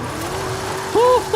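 Car drifting in Forza Horizon 5 on a steering wheel setup, a police Crown Victoria involved: steady engine drone with a short rising tire squeal near the end, under faint talk.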